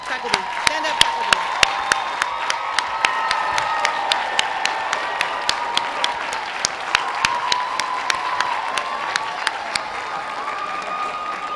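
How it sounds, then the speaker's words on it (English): A crowd at a 2016 CSULB College of the Arts commencement gives a sustained round of applause, dense and steady, with sharp individual claps standing out nearby, scattered cheers, and a voice speaking over it. "please stand up so the graduates can give you a well-deserved round of applause"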